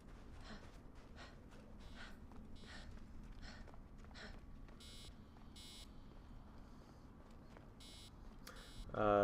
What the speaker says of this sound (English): ignoring the Animus is beeping